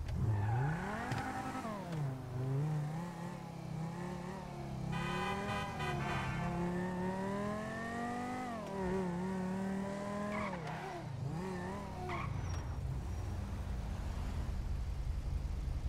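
A car engine in the video game GTA V revs up and down repeatedly, rising and falling in pitch through gear changes, loud and steady with faint tire squeal and no talk.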